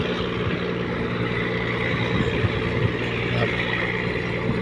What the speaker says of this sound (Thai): ชมวิว เรือบรรทุกสินค้าครับ